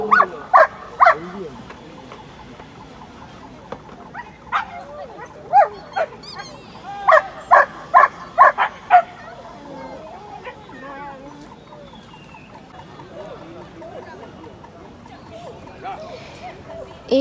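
Dogs bark at a 2023 dog show in Memari, Bardhaman, sounding loud, sharp barks in quick clusters with pauses between them, while voices and crowd chatter carry on underneath.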